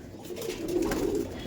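Madras flying-line pigeons at a loft in Behala give a low, soft, rolling coo that continues steadily for a moment, close by and alone.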